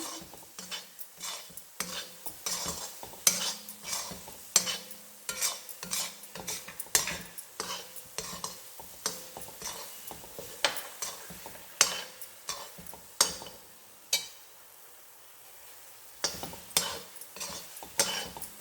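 Coconut burfee mixture bubbling in ghee while a utensil scrapes and stirs the pan, with repeated sharp clinks and scrapes over a soft sizzle and a brief quieter pause near the end.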